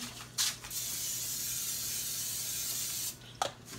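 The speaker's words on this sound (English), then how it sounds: "I'm gonna spray this down" A steady spray of cooking spray onto a cast iron skillet hisses for about three seconds, bracketed by short clicks and handling noises.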